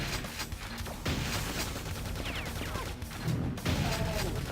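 Gunfire in the Quake 2 game, rapid bursts of loud shots and impacts crackling over a dense rumbling background, with a short lull before more shooting.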